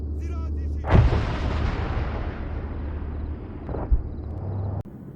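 Animated battle effects of Hellfire missiles striking vehicles and tanks: two heavy booming blasts a few seconds apart, each followed by a long rumbling decay, with a low mechanical drone underneath.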